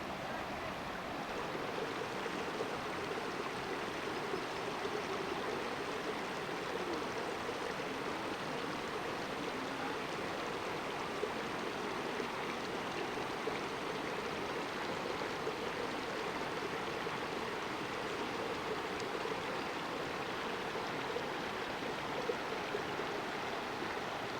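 Oak Creek at Red Rock Crossing in Arizona runs as a steady, even rush of flowing water, a continuous moderate gurgle with no voices.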